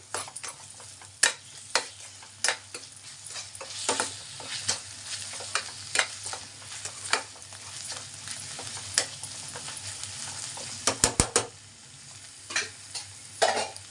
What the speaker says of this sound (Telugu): రెండు స్పూన్లు అల్లం వెల్లుల్లి పేస్ట్ వేసుకుందాం పచ్చివాసన పోయేంత వరకు మనం దీన్ని నేర్పించుకుందామండి